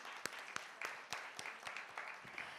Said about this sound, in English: we need to applaud for the lady, Mrunalini.